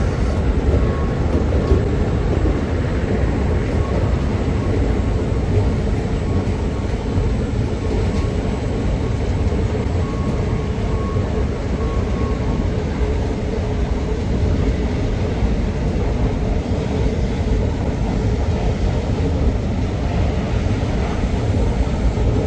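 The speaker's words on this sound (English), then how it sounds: "So I'm just gonna ride the escalator back down." An escalator on a Las Vegas pedestrian bridge running with a steady, loud mechanical rumble and hum that continues without a break, with no talk over it.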